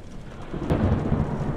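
Thunder in the video game The Joy Of Creation Story Mode, set in a bedroom, rolls in as a brief low rumble that swells and stays loud through the short moment, with rain-like hiss above it.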